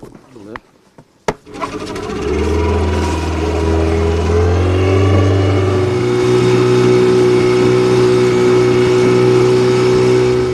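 A boat engine starts after a few sharp knocks, then settles into a loud, steady low drone that runs for the rest of the ride.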